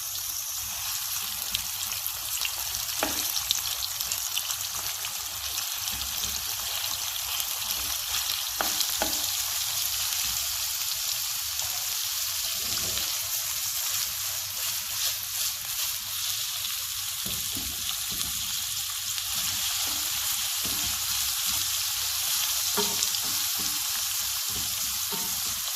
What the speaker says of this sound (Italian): Quindi aggiungiamo la cipolla e la foglia d'alloro.